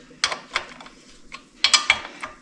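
A ratchet wrench tightens a bolt while a Yoshimura exhaust is fitted to a Honda CRF300L motorcycle, making close, quiet clicking bursts in short groups separated by pauses.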